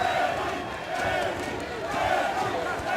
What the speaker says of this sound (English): The crowd chanting, Benny, Benny.